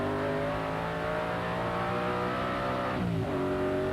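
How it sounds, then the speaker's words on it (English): On-board sound of a TVR Tuscan race car at a 1994 circuit race, engine droning steadily at high revs, then a sharp dip and climb in pitch as it shifts up a gear. "Up a gear goes Chris Maris"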